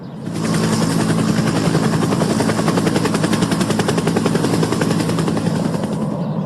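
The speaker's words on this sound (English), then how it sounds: "Why is the police helicopter here for?" A police helicopter hovers close by, its rotor beating in a steady, dense rapid chop with a constant engine whine, loud and continuous throughout with no talking.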